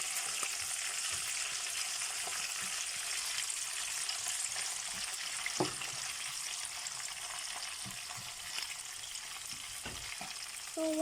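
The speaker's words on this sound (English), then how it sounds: "And basically we just stir it together." Nigerian jollof rice stirred in a pot, a steady hissing sizzle throughout with occasional soft knocks and scrapes of the spoon against the pot, close and moderately loud, no voices.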